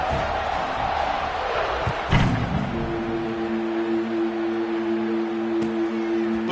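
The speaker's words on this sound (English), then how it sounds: "this crowd is feeling themselves after that last drive" A football stadium crowd roars and cheers after a scoring drive, a broad distant wash of voices with a sharp thump partway through, under a sustained tone.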